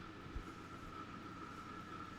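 An old, rusty passenger train in Transport Fever 2 runs steadily along the track, a continuous quiet rumble with faint wheel hum and a single low knock early on, no voices.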